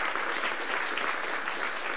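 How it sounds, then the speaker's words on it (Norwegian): A debate audience on health policy applauds with a steady, dense wash of clapping that stays loud and even from start to end. "Vi gir dem en applaus for det."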